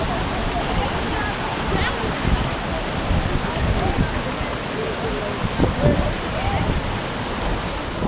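Waterfall at the base of Cascata Paraíso in Brazil, above a pool about six metres deep, giving a dense, continuous roar of falling water that stays close and constant throughout.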